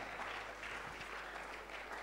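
Church congregation clapping during a service, a steady dense patter of many hands at moderate distance, continuous and even throughout the short stretch.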